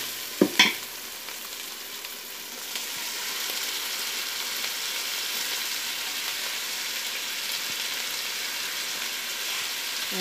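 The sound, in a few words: stirring ginger garlic sautéing in pan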